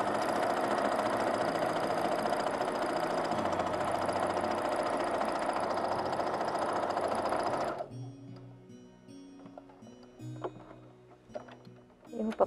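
A sewing machine runs a straight seam up to a marked line, a loud, steady, close whirring hum for about eight seconds before it stops and only faint, quieter sounds remain.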